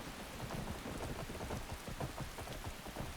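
Skyrim video game with a lightning mod: a steady patter of rain runs throughout, with low rumbling thunder underneath. The storm sounds fairly quiet and has no talk over it.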